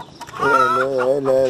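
Chickens cluck and squawk close by, a short burst of drawn-out, wavering hen calls.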